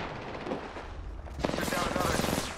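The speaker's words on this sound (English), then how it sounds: "Getting shot at." Rapid gunfire crackles in the Apex Legends video game, starting as a low volley and then growing into louder, denser bursts partway through, with game voice lines underneath.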